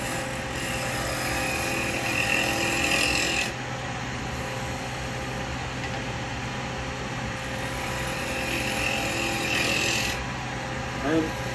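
Gouge cutting laburnum wood on a lathe while turning a small lidded box, a steady continuous rasping hiss of shavings that drops off briefly around the middle and resumes, close and loud throughout.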